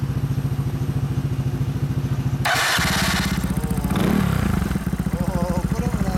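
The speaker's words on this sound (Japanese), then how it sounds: "エンジン音聞かせてもらえますか？" A fully customised 2007 Yamaha Cygnus X scooter with a Yoshimura exhaust, its engine idling close by with a steady rapid pulse, then blipped into a loud rev and falling back to idle; people talk over it.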